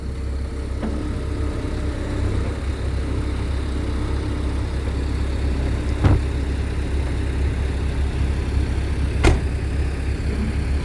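A Kobelco SK140 Super XM excavator's diesel engine idles with a steady low rumble throughout, broken by a couple of faint sharp clicks.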